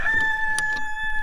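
Roosters crowing among backyard chickens, a loud sustained crow carrying through the whole short stretch, with faint clucking and another distant bird underneath.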